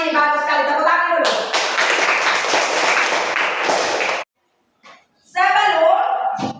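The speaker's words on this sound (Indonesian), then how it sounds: "Bagus sekali, tepuk tangan dulu." Schoolchildren clapping together in a classroom, a dense burst of applause lasting a few seconds, loud and close, with a voice speaking before and after.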